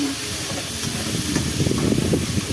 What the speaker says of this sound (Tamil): ஒரு 3 பெரிய வெங்காயத்தை அரிஞ்சு வச்சுருக்கேன். வதக்கிக்கலாம்.